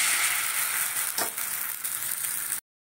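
Chilla batter made from water chestnut and Gobindobhog rice frying in a pan, giving a steady close hiss of sizzling for a few seconds that then cuts off abruptly, with no speech.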